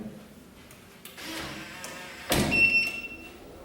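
An automatic door in a Berlin building opens by itself: a quiet mechanical hum gives way to a sudden louder rush of noise, then a thin high electronic tone lingers briefly. No one speaks.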